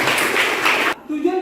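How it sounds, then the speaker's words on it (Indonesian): Classroom applause from a group of students, a dense burst of clapping lasting about a second that cuts off abruptly, followed by a brief voice speaking. "tepuk tangan untuk kita semua dulu"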